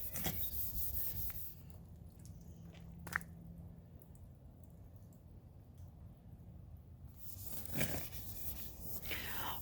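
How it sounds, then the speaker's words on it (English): Steady rasping sanding across a 1966 Mustang body panel, continuous and close, with a couple of louder scrapes near the start and end. "It's the final sanding of my Mustang."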